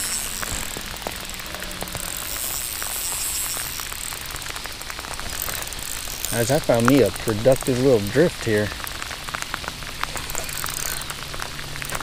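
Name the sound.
rain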